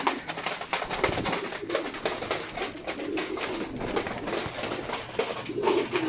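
A racing pigeon back from a training toss coos softly and repeatedly at close range, its low murmuring calls running continuously with no talk.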